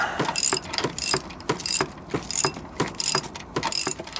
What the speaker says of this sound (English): 5/8 wrench on it. And we're just going to go to town.